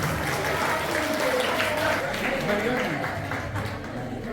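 Loud, continuous applause from an audience at an essay and speech competition prize event, steady throughout, with voices mixed in underneath.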